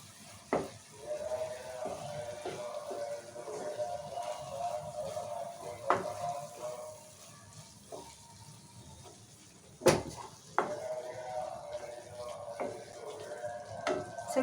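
A spoon stirs ridge gourd curry with chili powder and coconut powder in a pan, soft sizzling and scraping with a few sharp clinks against the metal, close and steady.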